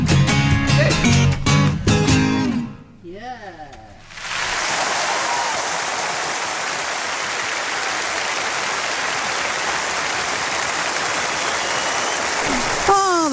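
Studio audience at a BBC Radio session applauding and cheering steadily after an unplugged live performance of a rock song, a dense wash of clapping that follows a few seconds of music and short vocal whoops.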